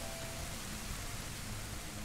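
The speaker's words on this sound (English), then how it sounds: "Raining harder." Steady rain in the video game Zelda: Majora's Mask, a constant soft hiss of falling rain with a low rumble beneath, heard alone.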